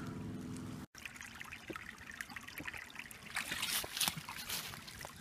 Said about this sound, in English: this could be interesting river or stream